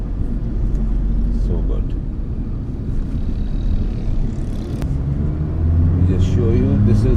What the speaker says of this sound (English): there is an engine noise, a visible engine noise, but the car accelerates as well